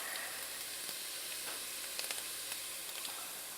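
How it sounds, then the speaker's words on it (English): Ginger, garlic and onion sautéing in a pan, a faint, even sizzle with a few light stirring clicks throughout and no talking. "While the ginger, garlic, onion is getting sauteed"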